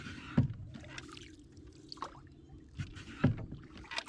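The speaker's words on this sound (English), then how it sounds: "It's good paddling either way." A canoe paddled across a quiet Adirondack pond in the Saranac Lakes, with three soft paddle strokes splashing and dripping at an unhurried, uneven pace against a calm outdoor background.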